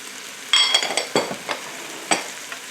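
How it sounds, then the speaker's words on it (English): Spoon stirring chopped carrot, celery and onions seasoned with salt and pepper in an Instant Pot, a few scraping strokes with soft sizzling, close and moderately loud. "we're going to give that a stir"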